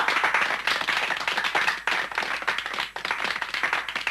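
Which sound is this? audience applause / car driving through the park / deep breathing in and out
audience applause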